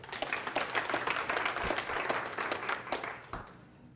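Seminar audience gives a round of applause, close and fairly loud clapping from a modest crowd with individual claps audible, a few heavy thumps near the mic, fading toward the end.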